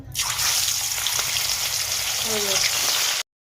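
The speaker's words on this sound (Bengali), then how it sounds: "তেলটা গরম হয়ে গেছে, মাছগুলো ছাড়া হচ্ছে।" Fish sliding into hot oil in a pan, giving a loud, steady, hissing sizzle that runs close and unbroken for about three seconds before stopping abruptly, with brief tonal kitchen clinks near the end.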